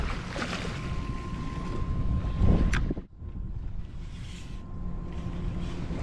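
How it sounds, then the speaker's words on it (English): Steady wind buffeting a microphone outdoors on the Mississippi River, with a rushing gust swelling near the middle before briefly dropping away, then settling back to a constant blustery roar. "By all accounts, this has been a fairly windy day."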